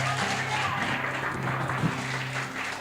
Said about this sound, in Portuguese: Se é para Ele, aplauda mais forte.